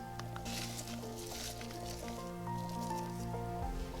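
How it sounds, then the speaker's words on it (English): Chicken pieces being stirred with seasonings, hot pepper and chopped onion for a Trinidadian curry, giving soft wet squishing and sloshing sounds that run steadily throughout, close by, over a faint background hum. "Now we'll stir well to combine."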